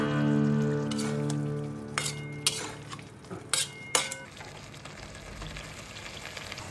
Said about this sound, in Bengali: এবার পেস্টটা মিশিয়ে দিচ্ছি